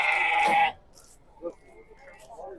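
A sheep or lamb at a livestock market gives one loud, close bleat, followed by quieter market background and a few faint voices.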